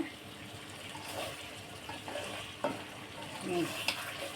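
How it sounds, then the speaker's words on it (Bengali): Liver curry with potatoes simmering over low heat while being stirred, with soft bubbling and gentle spoon scrapes in the pan and a few light clinks, close and steady, no talking. "এভাবে আস্তে আস্তে"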